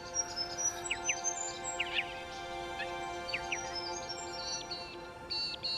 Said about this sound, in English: As the dawn progresses, more and more birds join in.